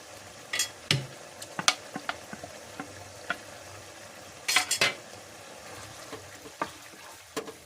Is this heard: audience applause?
no